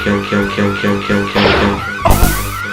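A repeating electronic alarm tone in a Conan the Barbarian video game pulses in short even beeps, followed by a rising whoosh and a loud crash-like burst.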